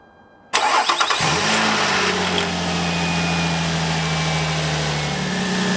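A Nissan Murano's engine cranking and catching after an alternator replacement: a short starter whir, a quick burst as it fires, then settling into a steady, even idle hum close by.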